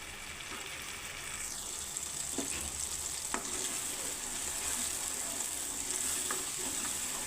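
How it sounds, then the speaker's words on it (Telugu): Tamarind and jaggery mixture boiling in a pan for temple-style pulihora: a steady, close simmering hiss with soft bubbling and faint stirring throughout. "ఇప్పుడు దీనిని మనం బాగా గుజ్జులా అయ్యేంత వరకు మరిగించుకోవాలి"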